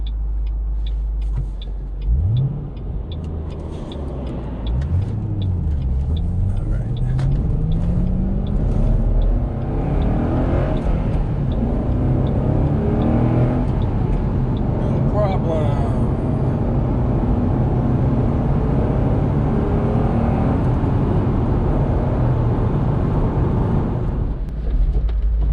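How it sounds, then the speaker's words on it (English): A 2019 Mustang PP2 accelerates hard up through the gears while merging onto a highway at 75 mph, its engine note rising in several sweeps under constant loud road and wind rumble heard from inside the car. "I got to merge out onto this highway here at 75 miles per hour"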